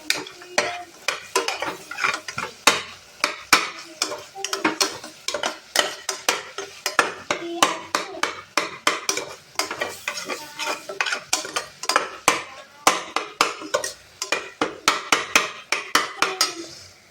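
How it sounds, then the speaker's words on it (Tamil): A spoon scrapes and knocks against a pan in a steady quick rhythm while masala with chili powder sautés over low heat. Faint sizzling runs underneath, close and clear, with no voices. "இது மிளகாத்தூள்லாம் போட்டிங்கன்னா சிம்லே வச்சு வணக்கி விட்டுக்கோங்க"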